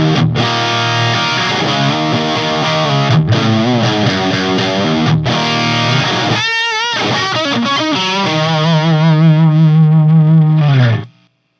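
Electric guitar through a Tone INK Gambit booster with the noise gate switched off, played as distorted, chorus-tinged chords and phrases with brief pauses, ending on a sustained note that cuts off abruptly.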